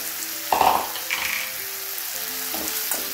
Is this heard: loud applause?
no